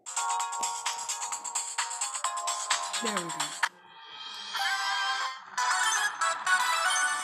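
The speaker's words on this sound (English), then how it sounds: "I do not want the ringtone on." A melodic ringtone song plays in short bright repeating notes, then shifts to a different tune partway through, with brief talk in between.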